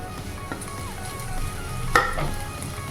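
Onions frying in a pan for a soya chunks roast give a steady close sizzle for the whole stretch, with a brief sharper crackle near the two-second mark.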